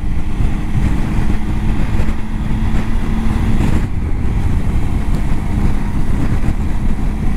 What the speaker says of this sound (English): that wind's picked up